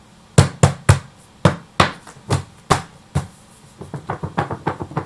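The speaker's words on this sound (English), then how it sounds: "Here's the sound of the book." A thick book thumped and tapped by hand, about ten firm, dull knocks in an uneven rhythm, followed by a run of quicker, lighter taps, close and alone with no talking.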